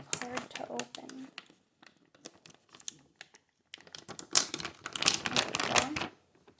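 Crinkling and rustling as a hard-to-open bag of Krusteaz gluten-free flour is pulled at, coming in close, crisp bursts separated by brief pauses, loudest toward the end.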